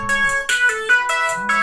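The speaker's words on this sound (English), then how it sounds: "I need to answer, and please write in the comments below which ringtone this is" A mobile phone ringtone plays loud and close, a bright repeating electronic melody with rhythmic tonal phrases and no voices over it.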